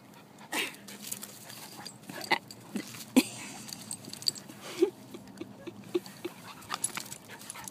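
A Boerboel dog whimpers and pants indoors, with scattered short whines, soft yelps and jingling tags coming in uneven bursts over a quiet room background.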